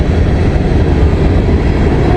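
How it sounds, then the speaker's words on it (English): A big Norfolk Southern freight train rolls past close by in Kenova, West Virginia, with a loud, steady rumble and the clatter of railcars on the track, and nobody speaks. "We got us a big train here."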